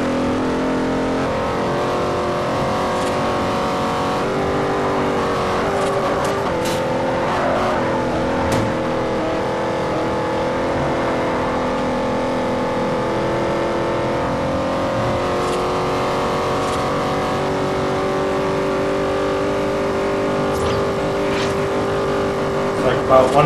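A 1957 Chevy Bel Air in the Forza Horizon racing game accelerates hard with a steady, loud engine drone that climbs through the gears, running continuously with a voice talking over it.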